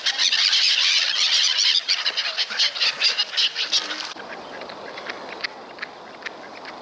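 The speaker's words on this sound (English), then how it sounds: "Seagulls are quick to capitalise on that." Seagulls squeal loudly and repeatedly at close range beside a river where ducks are being fed, a dense chorus of shrill calls that thins into scattered, fainter cries.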